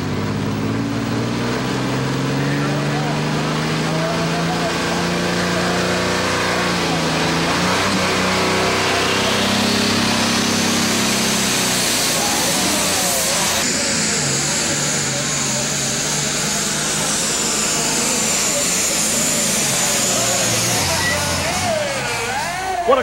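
A 1999 NTPA diesel super stock tractor roars through a pull at the Galax, Virginia volunteer fire department truck and tractor pull, its engine rising and straining loudly as an announcer talks over the run.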